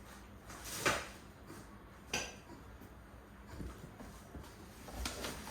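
Two IKEA frying pans and their handles are handled, producing faint, sporadic metallic clanks and soft knocks at a quiet level.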